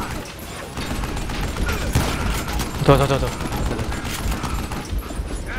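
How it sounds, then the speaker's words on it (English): Machine gun fire in the video game Call of Juarez: Gunslinger, a dense rumbling fusillade throughout with a sharper burst near the middle, under someone talking briefly. "Mình nghe cái đoạn mấy thằng súng máy đấy ghê kìa."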